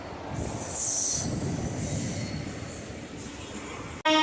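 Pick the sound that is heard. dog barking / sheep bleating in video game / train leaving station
train leaving station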